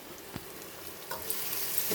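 Onions frying in a home kitchen pan for a tamarind rice and potato lunch, a steady low sizzle with a few brief scraping stirs, close and fairly quiet with no talking.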